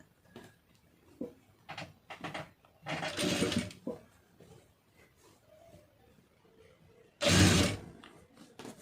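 A sewing machine runs in several short stitching bursts along blouse lining, with clicks and mechanical handling noises between them and a longer, louder run near the end.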